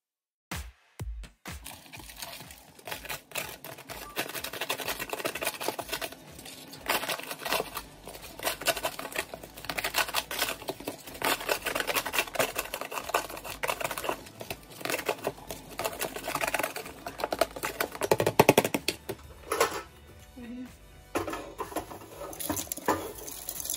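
Crunchy dehydrated onion pieces are handled and shuffled, giving a long run of dense, crackly rustling and patter up close, with brief pauses near the start and end and no speech.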